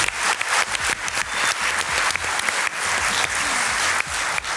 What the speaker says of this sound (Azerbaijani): Aysel xanım, alqışlarınızla.